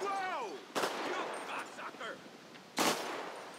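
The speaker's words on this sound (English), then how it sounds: "Who's shooting right now?" Two sharp gunshot bursts in GTA 5 during a zombie outbreak military patrol, heard at moderate distance amid ambient game sound, with a brief tonal whine before the first shot.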